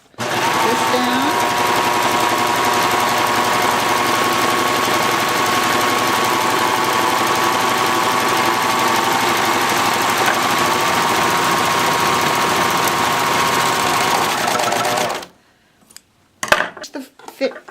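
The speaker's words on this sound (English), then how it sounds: "I have finished sewing the Flatlock" A serger stitches a flatlock seam with its cutting blade engaged, a steady, fast mechanical whir running loud and unbroken for about fifteen seconds before stopping, followed by a few brief handling clicks.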